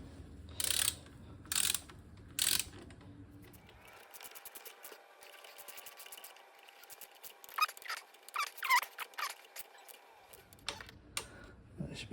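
A socket ratchet turning bolts on a 2002 Yamaha YZ250F motorcycle during a top-end rebuild, with three loud clicking bursts, then a long run of quieter rapid ratcheting clicks close by.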